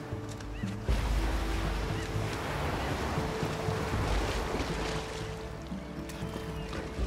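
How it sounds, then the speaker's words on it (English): Ocean waves surge and wash continuously in a video game scene, a loud broadband roar of surf that swells after the first second and stays steady with a low rumbling undertone. "check out these epic waves"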